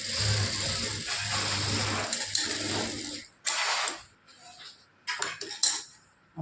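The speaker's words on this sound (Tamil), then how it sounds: "இப்போ நான் அப்படி தான் தைக்க போகிறேன்" A sewing machine stitching the lining of a saree blouse, with a steady mechanical whir and rattle for about three seconds, then stopping and giving way to short clicks and bursts of handling noise.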